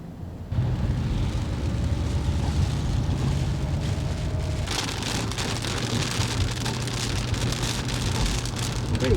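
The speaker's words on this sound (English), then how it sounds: "Too bad we can't see nothing because of the pouring rain." Heavy pouring rain drums steadily and loudly on a nearby surface, a dense continuous downpour that swells even louder about halfway through, with no talk over it.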